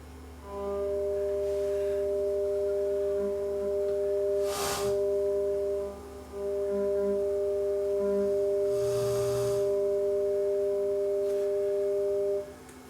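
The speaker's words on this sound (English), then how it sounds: "this is 2 separate tones. So there'll be a 440 tone in the left channel, a 600 tone on the right." Two steady stereo test tones, 440 Hz in the left channel and 600 Hz in the right, played through an AGS Trio 30G being serviced; both hold continuously and loud for about twelve seconds, with a couple of brief bursts of noise.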